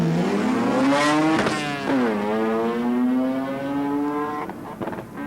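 Import cars drag racing down the strip, a loud engine climbing steeply in pitch through successive gear changes with brief drops between shifts, then fading as the car pulls away.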